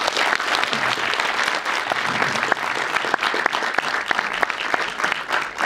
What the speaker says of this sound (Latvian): un tāpēc vēlreiz jau aplausi.